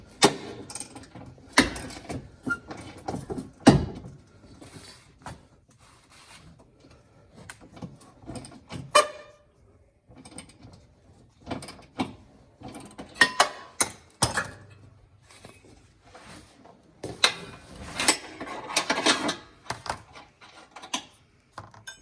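A hand wrench working a bolt and nut on the rear camber arm of a 10th-generation Civic Type R, heard as irregular metallic clicks, ratcheting taps and clanks in short bursts with quiet gaps between.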